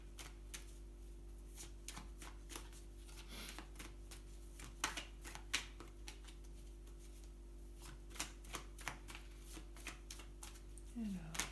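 Oracle cards being shuffled by hand, a run of crisp riffling flutters and soft slaps over about eleven seconds, with quiet talk in French at times.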